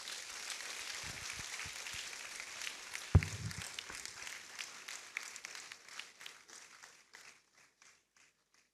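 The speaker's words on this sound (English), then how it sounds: "with a loud applause, help me welcome Bright Simons." An audience at a law faculty conference applauds a speaker's introduction, steady clapping at first that thins into scattered individual claps and fades out.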